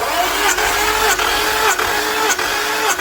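An Infiniti Q70 engine cranks on its starter during a compression test, a steady mechanical whir with a regular dip about every 0.6 seconds, close and loud throughout with no speech.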